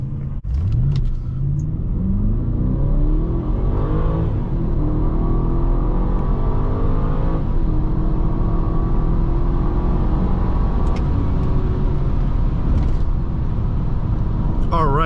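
A 2005 BMW 645Ci pulls hard through a 0-to-60 acceleration run, its engine note climbing steadily through the gears in a loud, continuous roar heard from inside the car, with talk over the top.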